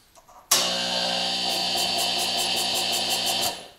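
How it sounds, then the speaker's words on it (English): An air compressor runs on a 3000W inverter fed by a DIY powerwall of Chevy Volt batteries, starting abruptly with a loud, steady motor whine and hum that holds for about three seconds before cutting off. "The valve is open on the air compressor."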